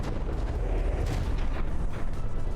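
Shells bursting during a battleship fight in From the Depths, a dense, continuous rumble of overlapping booms and blasts, loud and heavy with no break.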